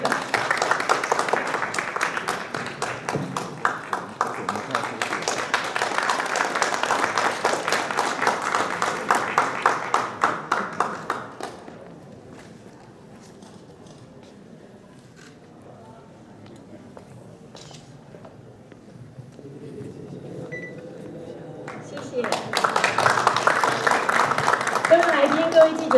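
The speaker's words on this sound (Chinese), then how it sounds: "我们掌声来" An audience at a certificate presentation for a science museum's mathematics exhibition claps in a quick, even rhythm. The clapping fades into a quieter stretch where someone speaks, then swells back loudly at the end.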